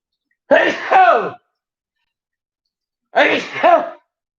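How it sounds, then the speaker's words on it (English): Two sneezes, each a sharp wheezy burst with a brief inhale then an explosive release, separated by a few seconds of silence; close and fairly loud. "Hold on, about to sneeze."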